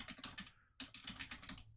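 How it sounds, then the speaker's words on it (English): Quick, close keyboard typing: a burst of clattering keystrokes, a brief pause, then another rapid run of taps. "And then I can start typing into here."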